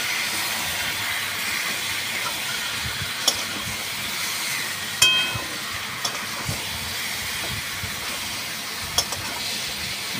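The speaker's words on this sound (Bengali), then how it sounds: "এরপরেতে আলু চিকেন ঢেলে দেবো।" Potatoes and chicken tipped into a hot pan of spiced masala for a Bengali chicken curry, giving a steady loud sizzle and hiss throughout, with a few sharp clatters and taps of utensils, no talking.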